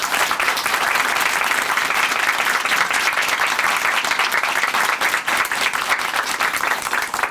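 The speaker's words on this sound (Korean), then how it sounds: "다시 한번 큰 박수 보내드릴게요" Sustained loud applause from a large audience at a Korean church TV program, steady and dense throughout with no pauses.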